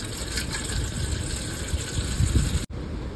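Steady close gush of water poured into a large basin for soaking banana blossom, continuous and fairly loud, cutting off abruptly near the end, with no talk.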